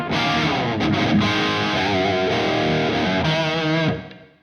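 An electric guitar on its single coil pickups plays through a modded Mesa Boogie Dual Rectifier Multi Watt amp, a thick, distorted stream of sustained chords and notes that rings out continuously before fading at the end.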